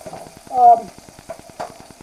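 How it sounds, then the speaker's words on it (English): Three bacon rashers frying in a saute pan, a steady soft sizzle with faint regular crackles, broken by a brief louder clatter partway through, close and with no voices. "What we've done is put 3 rashers of bacon in a saute pan"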